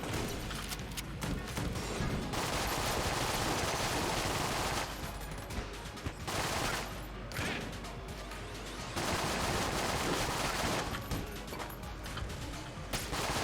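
Rapid continuous gunfire from an infinite-ammo gun in the video game Enter the Gungeon, dense bursts of shots filling the clip with brief lulls between volleys, loud and steady.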